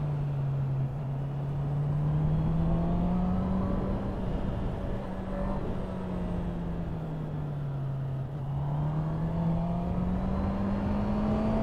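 A Honda CB650R motorcycle engine ridden in fourth gear on the road, a steady loud drone that rises and falls slightly in pitch as the throttle changes, with wind noise and no talk.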